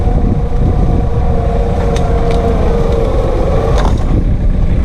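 A New Holland Workmaster 25 tractor engine idles steadily while climbing a steep wooded hill, a low continuous rumble close by with wind noise and a few clanks over it.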